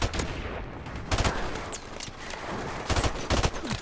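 Automatic rifle fire in the Call of Duty Modern Warfare video game, several short bursts of rapid shots separated by brief pauses, close and sharp against a low game background.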